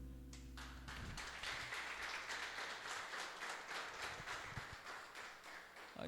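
A church congregation claps in a lively, rhythmic beat, with steady close applause that starts right after a held musical note fades.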